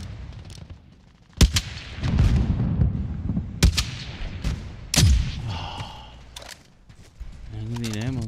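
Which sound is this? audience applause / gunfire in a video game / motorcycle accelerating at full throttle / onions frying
gunfire in a video game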